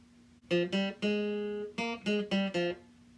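A guitar plays a short phrase walking up and down a scale in the Mandalorian theme: about eight clean plucked notes, one held longer, played up close with no voices.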